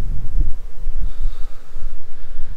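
Honey bees buzzing around backyard hives during a swarm, a continuous dense drone close by with some rustling, no talking.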